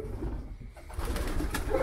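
A racing pigeon coos softly against a low, steady background murmur.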